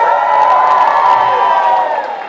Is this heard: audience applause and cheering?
yes